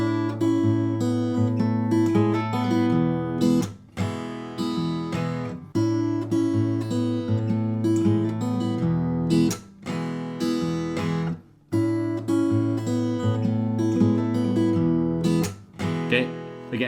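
Fingerstyle acoustic guitar plays the intro riff of a song, a steady picked figure of bass notes and chords repeating in phrases with brief pauses between them, played solo and close.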